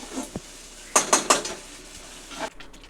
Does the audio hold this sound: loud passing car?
no